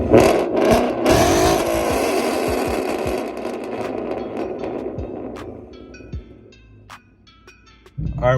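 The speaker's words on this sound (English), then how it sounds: "So I'm gonna cut to a clip of a rev video." A car tuned with an Auto Mafia Tommy gun tune revs hard at close range, then lets the engine fall off while sharp exhaust pops and crackles fire, before a final short rev at the end.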